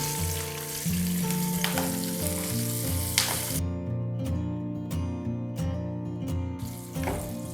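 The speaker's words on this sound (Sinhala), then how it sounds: "මම මේකට අමු මිරිස් ටිකක් දාගෙන අමු මිරිස් ටිකක් පොඩ්ඩක් තෙලෙන් පොඩ්ඩක් ෆ්‍රයි කරගන්නවා" Green chilies fry in oil for a Sri Lankan wambatu moju, giving a steady close sizzle that runs through the whole stretch, with a strong tonal hum underneath and no voices.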